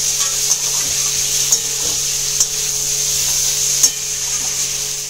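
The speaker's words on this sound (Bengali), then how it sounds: "চিংড়ি মাছগুলো দিয়ে এবার ভালো করে এর সাথে নাড়াচাড়া করে নিয়ে" Prawns and cauliflower stirred in a frying pan for a Bengali prawn curry, a steady close sizzle punctuated by several soft scraping strokes of the spatula at roughly even intervals.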